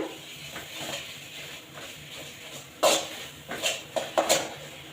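A spoon stirs a thick dry fruit mixture in a pan, with faint soft scraping first, then a few louder, sharper scrapes and knocks against the metal up close.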